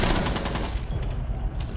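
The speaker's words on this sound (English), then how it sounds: "I'll shoot him in the back of the skull." Gunfire in the Rainbow Six Siege video game on the Yacht map, team deathmatch: a loud, rapid burst of shots dense at the start, thinning and fading toward the end.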